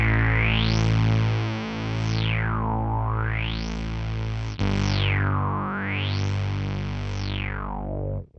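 A sustained buzzy synth-guitar tone whose filter sweeps slowly up and down in a steady wavelike cycle, loud and continuous, with a brief break midway.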